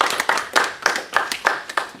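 Brief scattered applause at a township council meeting, a handful of people clapping in an uneven rhythm of sharp, close claps for about two seconds, with no talk over it.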